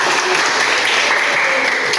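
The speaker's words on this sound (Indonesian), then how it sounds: "Ya, tepuk tangan dulu." High school students in a classroom clap their hands together in a loud, continuous burst of applause that lasts a couple of seconds, with no voices over it.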